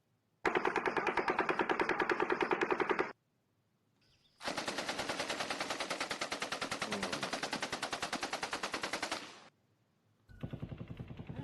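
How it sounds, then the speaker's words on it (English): Long sustained bursts from an M240 belt-fed machine gun, a rapid, evenly spaced stream of loud shots in three strings separated by brief silences, with no talking over it. "You motherfuckers will never not know the sound of a 240."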